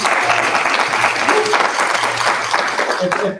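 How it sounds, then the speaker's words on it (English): Audience applause after a jazz reading band performance, a dense steady wash of clapping that fills the whole stretch, with a few voices and cheers mixed in toward the end. "How about a round of applause for them?"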